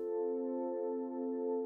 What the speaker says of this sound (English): I'll ease up the volume so that the guitar has like a slow attack to it, and I do this into a very, very long reverb